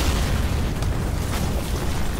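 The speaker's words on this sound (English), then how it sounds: "This sniper has been blown up without warning" A video game explosion blows up a blue sniper, a dense roaring blast with heavy low rumble that stays loud and sustained for over two seconds without talk.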